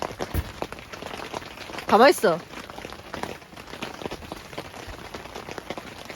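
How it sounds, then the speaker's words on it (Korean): Steady rain falls at a forest campsite at a recreation forest in Sacheon, a soft continuous patter on surfaces, with a brief voice and a short louder burst of sound partway through. "혹시 빗소리 들리시나요?"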